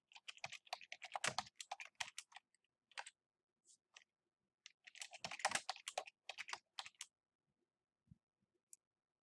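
Someone types data into a Google Sheets spreadsheet on a computer keyboard. Two close bursts of rapid key clicks are separated by a pause, with a few scattered single taps and no talking.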